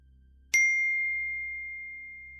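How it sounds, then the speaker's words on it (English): A single bright electronic ding sounds once, then rings out with a long, clean fading tone over near silence. "Then my phone pinged."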